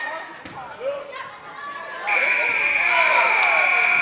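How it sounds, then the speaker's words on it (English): A loud steady electronic buzzer starts about halfway through and holds to the end, marking the end of a quarter in a women's basketball game in a gym. Before it, sneakers squeak and a ball bounces under crowd murmur and distant voices. "That's Kim Sweeney Ladyga putting up that shot right at the buzzer."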